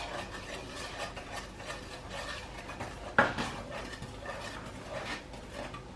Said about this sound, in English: Sprinkle the flour,